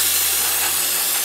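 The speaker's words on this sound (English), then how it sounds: "It's just carb cleaner. Get all the poo-poo off." Carburetor cleaner sprayed from an aerosol can onto a Johnson Evinrude outboard motor carburetor, a loud, continuous close hiss with no pauses and no talking.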